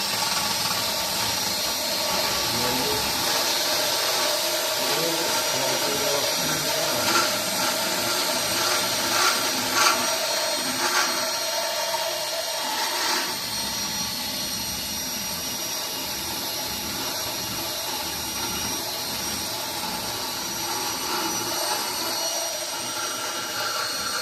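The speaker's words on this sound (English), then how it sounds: "I'm going to go with my small round carbide. Touch that weld up." High-pitched whine of a small round carbide burr on an air tool grinding down a weld, a continuous close-up shriek with a few short bursts of harsher cutting partway through.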